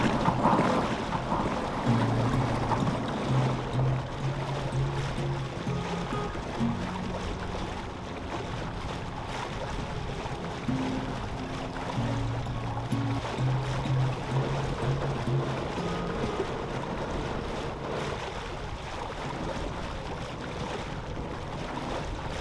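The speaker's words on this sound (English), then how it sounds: "We're gonna go motor over to the Larso Cove." A motorboat motors across the open sea along the Canadian coast toward a cove in light wind, its steady engine drone and hull wash continuous and close throughout, with no talking.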